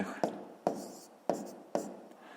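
Four separated scratchy strokes of pen on paper as a maths answer is written down, quiet and close, each a short tap-and-drag with brief pauses between.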